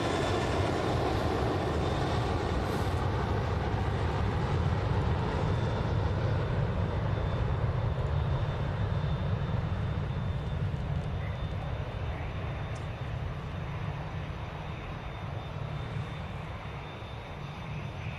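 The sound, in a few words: Boeing 757 aircraft landing at Manchester Airport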